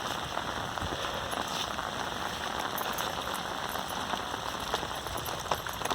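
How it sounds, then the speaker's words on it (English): Steady rain falls on surfaces during a February flood, a constant dense patter with occasional louder drops. It is even and unbroken throughout, with no voices. "The rain is pretty much coming to an end,"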